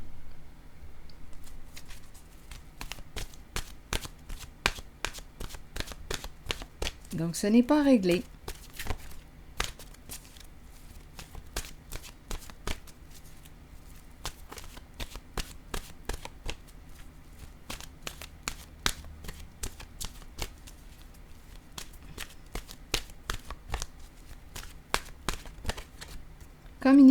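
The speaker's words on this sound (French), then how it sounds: "Je vais piger une carte maintenant de mon oracle de l'âme intuitive." Oracle cards being shuffled by hand, a long run of quick soft flicks and riffles, close and steady, with someone speaking briefly partway through.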